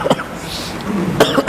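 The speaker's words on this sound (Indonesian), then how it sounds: "Batuk dulu." A single short cough bursts out up close, followed by a second quick cough, with a murmur of voices in a gathering around it.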